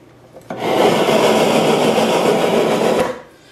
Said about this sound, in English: if you need to sweep, all you end up doing is sweeping it into this little container.